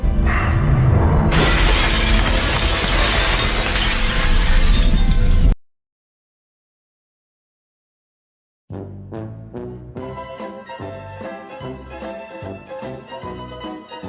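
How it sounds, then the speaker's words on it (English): Glass breaking in a scene from the TV show Fear the Walking Dead, a loud, dense, sustained shattering crash that cuts to silence, followed by rhythmic music. "Just break through the glass."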